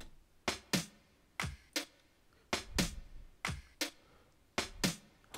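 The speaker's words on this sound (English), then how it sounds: "I used different types of snares to actually give me one rhythm." An Afro house rhythm is built from four different snare drums, sharp cracks falling in pairs and singles in a steady syncopated loop, close and dry with nothing else playing.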